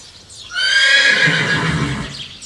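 A racehorse neighs once in a loud, drawn-out whinny that rises and wavers for about two seconds, close by and alone.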